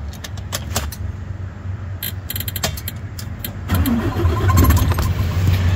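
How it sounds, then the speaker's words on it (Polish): A truck's engine is started after a few scattered clicks and rattles; partway through, a deeper rumble swells up and settles into a steady, fairly close running sound. "Palimy fura."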